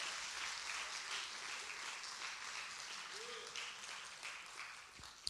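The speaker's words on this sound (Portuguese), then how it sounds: "Pode aplaudir mesmo ao Senhor." A church congregation applauds during a worship service, a soft, fairly distant wash of clapping that holds steady and then tapers off at the end.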